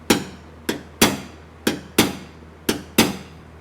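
A hammer strikes a punch to tap down spots in body filler on a car dent repair: seven crisp, sharp metallic taps at an uneven pace, close and alone.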